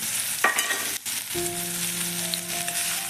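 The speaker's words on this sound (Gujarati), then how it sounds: "એને થોડુંક સાંતળી લઈશું." Turmeric, carom seeds, crushed green chillies, ginger and garlic sauté in oil for jowar methi thepla with a steady, moderate sizzle, a brief stir early on, and a faint tonal hum joining in partway through.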